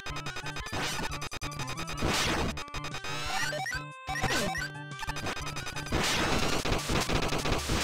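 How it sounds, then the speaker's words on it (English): Explosions burst in a Mega Man fan-made video game, loud, rapid chiptune blasts and crashing hits layered over music-like tones, with brief gaps and sharp onsets, no speech. "The explosion doesn't even carry over."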